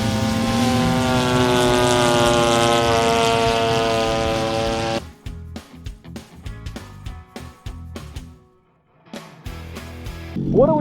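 A large radio-controlled model of the Avro Vulcan Cold War jet bomber flies at a model airplane show, a sustained loud engine roar for about five seconds, then fading into scattered crowd clatter and sharp knocks.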